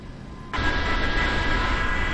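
An Airbus Beluga cargo freighter lands. After half a second of quiet a broad roar of engines and rushing air starts suddenly and holds steady, loud and fairly near.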